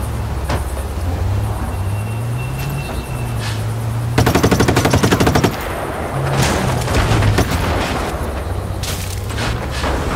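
Automatic gunfire bursts in Just Cause 3, loud rapid rattling over a steady engine drone and game background noise, with a dense burst in the middle and shorter volleys after.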